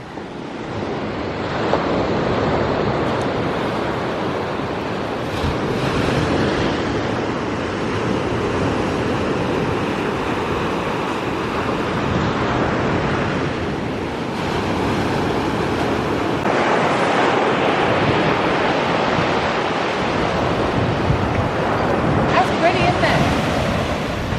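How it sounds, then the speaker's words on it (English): Steady roar of ocean surf breaking on a shore, with gusty wind buffeting the microphone throughout. "I love the sound of the waves."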